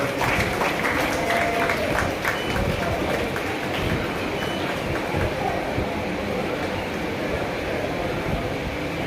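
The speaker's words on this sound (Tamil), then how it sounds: "எல்லாரும் ஒரு கரகோஷம் கொடுக்கலாம்" A seated audience at a community association's prize-giving function claps for a student being honoured, a steady wash of applause lasting several seconds under a hollow, rumbling hall ambience.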